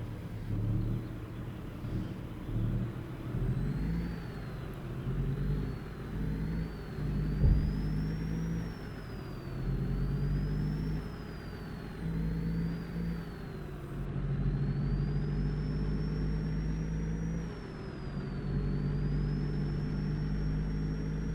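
A small truck labors steadily uphill at high altitude in American Truck Simulator, its engine droning and rumbling in a low, continuous tone for the whole stretch, with faint whining tones above.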